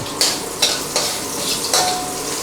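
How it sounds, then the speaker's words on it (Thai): Crushed garlic stir-fries in a pan over medium heat for a catfish and celery dish: a steady sizzle with four distinct spatula scrapes at a slow, even rhythm, close and fairly loud, with no voices. "ผัดให้กระเทียมเราเหลืองก่อนเนาะ"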